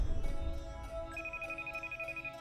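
A telephone rings for an incoming call, an electronic ringtone with a steady pulsing tone repeating rapidly, moderately loud and with no talking.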